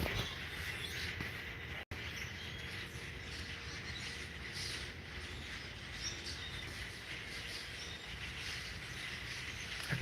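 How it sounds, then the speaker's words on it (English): Birds chirp outdoors in faint, scattered calls over a steady low background hum, with one sharp click early on and no talking. "I can hear the birds."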